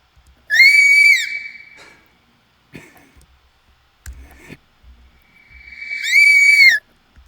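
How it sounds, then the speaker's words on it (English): Sound-effect clip of a small cartoonish creature letting out a shrill, piercing scream, heard twice, loud and alone, with faint clicks and thumps in the gap between. "I want to find this little scream, this right there, of our little friend here."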